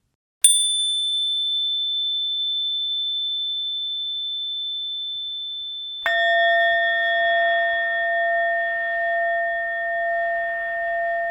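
A bicycle bell made in Kyoto from a Buddhist orin bell rings twice: a high, pure tone struck once and left to decay slowly, then a lower, richer strike whose shimmering tone sustains with a gentle beating wobble.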